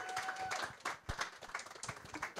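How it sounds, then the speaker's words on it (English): Faint clapping from a small audience at an employer engagement forum, quick scattered claps heard from a distance for a couple of seconds. "Let's give them a big round of applause."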